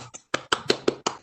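Half a dozen sharp, evenly spaced claps ring out from a panel at an online Christmas computer science lecture for Scottish schools, thin and brief like only a few people applauding, with no talk over them.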